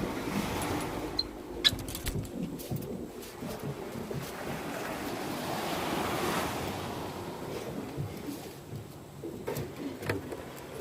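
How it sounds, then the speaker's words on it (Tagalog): Sea waves washing onto the shore at a fishing spot, a steady roar of surf mixed with gusty wind buffeting the microphone, continuous and fairly loud with no voices. "Ito naman kami sa dagat."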